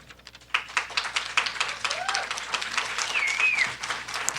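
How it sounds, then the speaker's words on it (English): Applause breaks out in a county legislative chamber, starting as a few claps and swelling into a sustained crowd of clapping hands, with faint murmuring voices underneath. "If we can hold the applause"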